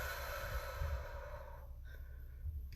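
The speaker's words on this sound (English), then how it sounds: "Take a deep breath." A slow, deep breath is drawn in and let out, soft and close in a quiet room during a calming tapping exercise for anxiety, with no talking over it.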